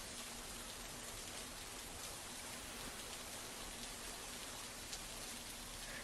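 Heavy monsoon rain pours down steadily in Akkalkot, Solapur, making a dense, even hiss across all six seconds with no breaks and no voices.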